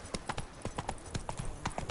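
Horse hooves in The Witcher III beat out a quick, regular clip-clop gallop, each hoof strike sharp and distinct in a fast rhythm, fairly near and quiet, with no voices.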